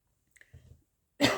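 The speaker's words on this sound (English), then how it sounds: "Again with the coughing." A quiet throat clear or small cough, followed by a sudden louder burst of breathy noise at the end.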